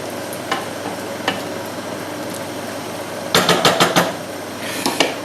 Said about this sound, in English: Give the whole thing a stir again to make sure they're well mixed in.